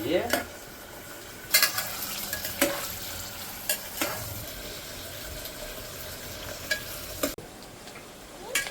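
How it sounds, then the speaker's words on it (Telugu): Onions frying in a pot until golden, a continuous close sizzle with intermittent clanks and scrapes of a stirring spoon, no talking. "ఇవి కొంచెం గోల్డ్ కలర్ వచ్చేంత వరకు మనం వేపుకుందాం."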